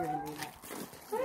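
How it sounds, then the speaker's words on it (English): A dog whimpering and whining in quick high-pitched cries, close by, with people talking excitedly over it. "He's not barking, he's just whining."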